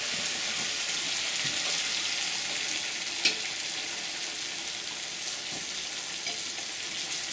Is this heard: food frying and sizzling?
yes